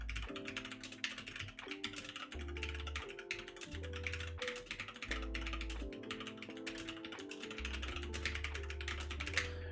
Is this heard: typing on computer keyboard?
yes